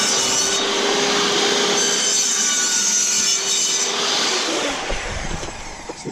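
An interlocking garage floor tile being cut, giving a steady, close, rasping sawing noise that runs loud and unbroken for several seconds before roughening and tapering near the end.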